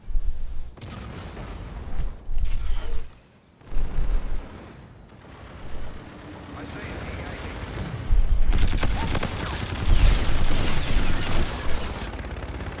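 Video game gunfire erupts in loud bursts and sustained volleys, with heavy booming shots and brief lulls between exchanges, filling the mix up close with no talk.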